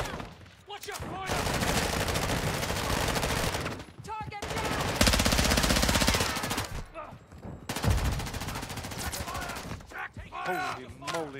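Sustained bursts of automatic gunfire in the extraction shooter DMZ, loud and dense, coming in three long stretches with brief gaps, while players' voices talk over and between the shooting.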